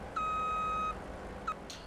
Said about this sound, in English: that's that loud beep, isn't it?